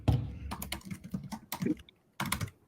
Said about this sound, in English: I can hear her typing.